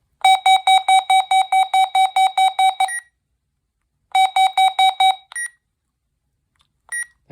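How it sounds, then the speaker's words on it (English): A RadioShack 12-254 alarm in siren test mode gives a rapid run of loud, piercing electronic beeps. A pause follows, then a shorter burst and a couple of isolated chirps. "Is there any way to do a siren test on this?"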